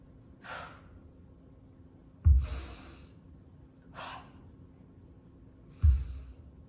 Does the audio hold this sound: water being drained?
no